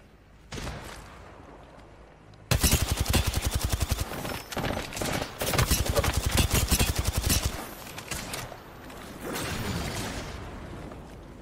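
Automatic gunfire in a shooter video game: one brief burst, then a long loud stream of rapid shots with short pauses, fading into quieter distant firing at the end.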